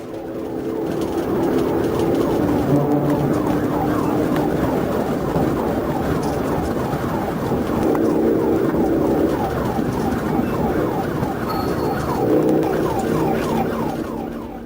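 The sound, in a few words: police sirens during a motorcycle chase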